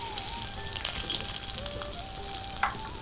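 Okra sizzles and spatters in hot oil in a pan, a bright crackling fry with occasional stirring clinks, close and lively, while faint background sounds drift underneath.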